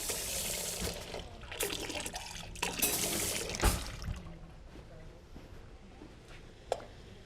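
Water pours into a cooking pot of kale greens in a home kitchen, a soft splashing trickle with a few clinks and bumps of cookware, faint and close.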